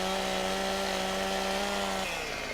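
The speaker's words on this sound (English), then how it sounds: "Now we do have the stump grinder as well, you know, the stump cutter on the back of our Unimog" The stump grinder on the back of a Unimog in Farming Simulator 17 runs as a loud, steady mechanical whine with sustained tones that drop slightly near the end, close and continuous with no talk.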